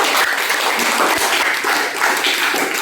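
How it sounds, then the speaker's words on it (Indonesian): Classroom applause from students for a group returning to their seats, a brief, loud burst of dense clapping that holds steady throughout. "tepuk tangan untuk kelompok kayu"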